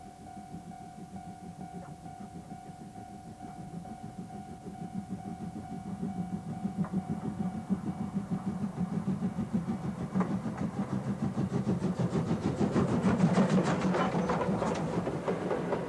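Japanese C58 steam locomotive No. 363, built in 1944 and restored in the mid-1980s, running with a steady, heavy rolling rumble that swells slightly toward the end, with no voices.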